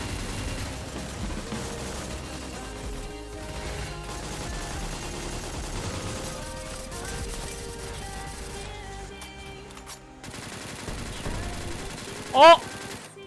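Video game gunfire during a squad match, sustained bursts of shots under a dense, steady game soundscape, with a sharp louder report near the end.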